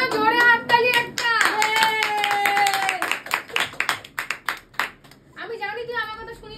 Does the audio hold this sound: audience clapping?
yes